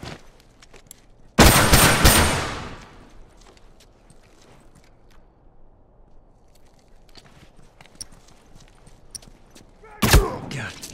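A rifle fires in a video game. A loud sharp shot rings out and echoes for about a second, a second shot follows near the end, and quiet footsteps and movement fill the gap between them.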